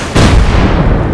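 Gunfire in the video game Rust, one loud close blast that rings out into a rumbling tail, heard alone without talk.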